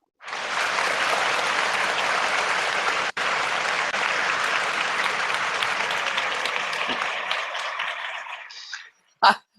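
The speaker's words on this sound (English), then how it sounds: "I love that clapping thing, dude." Steady, dense applause from a crowd carries on for about nine seconds with a brief dip, then fades and ends with a couple of louder sharp bursts.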